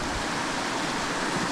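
A waterfall pours into a mountain stream in the San Bernardino Mountains, making a steady, full rushing roar close by with no voices.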